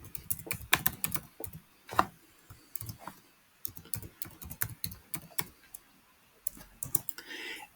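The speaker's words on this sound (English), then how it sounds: "in order to use the virtual environment, we need to activate it, and in order to do this, we will type this command" A command typed on a computer keyboard to activate a Python virtual environment: quiet, irregular key clicks in quick runs with short pauses, heard close and alone.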